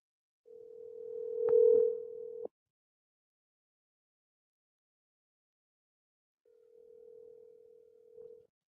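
A phone call's ringback tone sounds before the call goes to voicemail: a steady single tone for about two seconds, a pause of silence, then another quieter tone of similar length.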